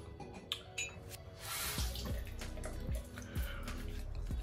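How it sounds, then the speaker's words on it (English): Cold water splashed by hand onto a freshly shaved face at a sink after a safety-razor shave, giving several close wet splashes and drips over running tap water, with no talking. "I've just put some cold water on my face to close off the pores"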